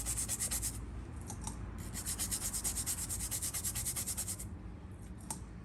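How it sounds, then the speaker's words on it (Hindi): A brush scrubbing steadily across an ECM circuit board in a continuous, close rubbing rasp with a brief dip partway through. "तो अब मैं इस पर ब्रश अप्लाई करने वाला हूँ, ब्रश भी सदे हाथों से"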